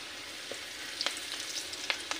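Turmeric frying in hot oil gives a soft, steady sizzle with a few small crackles and pops, close by and fairly quiet, with no one talking.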